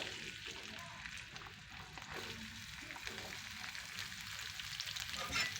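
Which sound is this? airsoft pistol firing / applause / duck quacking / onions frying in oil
onions frying in oil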